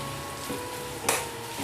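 Garlic cloves, four pieces, frying in a reduced amount of cooking oil in a pan, giving a steady close sizzle with a brief brighter crackle burst midway, no talking.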